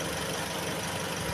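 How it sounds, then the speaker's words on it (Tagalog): A 2014 Toyota Vios automatic idles with its engine bay open and the air conditioning running, giving a steady, quiet, even hum with no breaks in the sound. "Ito, makina, engine bay, napakatahimik po."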